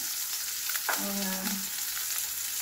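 Garlic and onion sautéing in oil in a pan for pinakbet with pork, a steady close sizzle of frying, with a brief voiced sound partway through.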